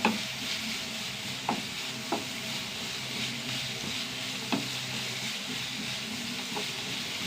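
Onions sautéing in a pan make a continuous close sizzle, broken by several sharp clinks of stirring spread across the clip, with no voices.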